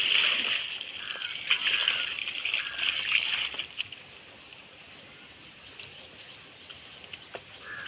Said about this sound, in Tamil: இந்த பாருங்கள் தண்ணி ஊற்ற போகிறேன்